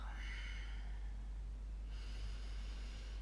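During a yoga session, two deep, audible breaths pass close and soft, an airy inhale followed by a longer hissing exhale, under a constant low hum with no talking.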